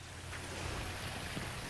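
Water splashing and trickling steadily from a pondless backyard water feature beside a circular patio, a soft continuous wash close by with no talking.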